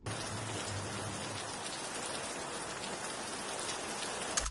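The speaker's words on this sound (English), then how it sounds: "I've got this rain sample." Heavy, even rainfall pours down in a constant hiss, close and full, with no other sounds over it.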